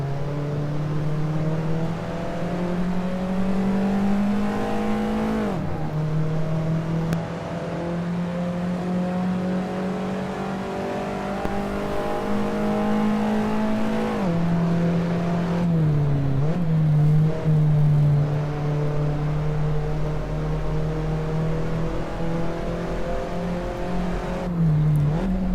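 Race car engine in the Assetto Corsa racing game, a steady loud drone that rises through each gear and drops briefly at every shift, held high through corners for a long continuous run without talk.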